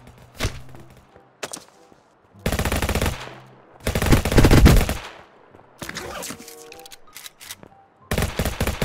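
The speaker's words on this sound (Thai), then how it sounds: "ผมก็จะยิงให้หมดเลยแล้วกัน" Gunfire in Vice Online, a mobile GTA-style game, comes as repeated bursts of rapid automatic shots, loud and close, separated by short pauses and single shots.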